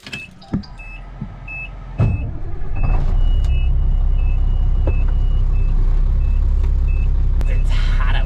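Truck engine starting up: a few clunks and clicks, then the engine catches and settles into a loud steady rumble, with repeated electronic beeps throughout and brief voices.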